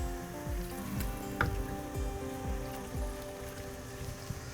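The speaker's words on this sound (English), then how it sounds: "So we're just going to leave this simmering for 15 minutes" Fish stock, chopped canned tomatoes and cauliflower simmering in a pan for seafood paella, a close, steady bubbling and sizzling with soft popping bursts throughout.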